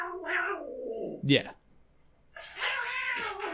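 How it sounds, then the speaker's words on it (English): Cats squabble nearby with a sharp rising meow and yowl in the middle, set between stretches of a person talking; the cat noise is brief but clear. "Have a little cat battle over there."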